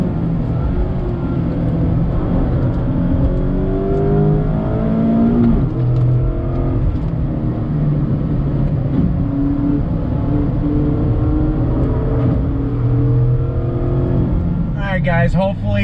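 A 2019 Mazda MX-5 Miata RF engine pulls hard under acceleration, a loud, continuous engine note climbing through rising harmonics with gear changes, heard from the cabin, with a brief higher whine near the end.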